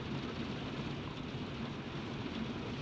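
Heavy rain in a thunderstorm, a dense, steady wash of downpour noise filling the scene with a low rumbling undertone, continuous and loud with no voices.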